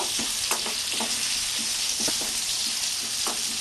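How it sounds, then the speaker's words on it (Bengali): Potato pieces fry in oil until reddish-brown for a Bengali-style katla fish curry. A steady, close sizzle runs throughout, broken by repeated scraping knocks from stirring. "আলুটা একটু বেশ ভালো করে ভাজবো আমি"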